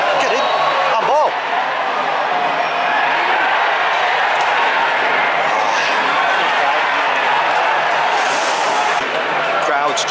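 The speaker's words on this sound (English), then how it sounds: "Crowd's just livened up massively." A football crowd at a Bolton vs Doncaster match roars and livens up, a broad sustained stadium din with chanting swells, heard from within the stands as a voice talks over it.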